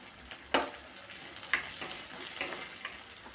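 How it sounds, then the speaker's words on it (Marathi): Onion and curry leaves sauté in a pan with a low, steady sizzle, punctuated by a few sharp scraping strokes from a spatula, close by with no voices. "कांदा छान असा परतून घ्यायचा थोडासा कढीपत्ता टाकतो"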